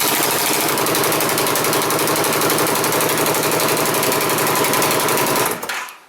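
An Indian Scout Sixty motorcycle with a Bassani 2-into-1 exhaust and the O2 sensors removed runs loud and close in a fast, steady rapid-fire putter, then cuts off abruptly near the end.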